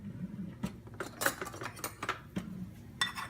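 A spoon scrapes and clinks against a container while spicy mashed potatoes are scooped out, producing soft, quiet metallic taps and scrapes in an irregular rhythm.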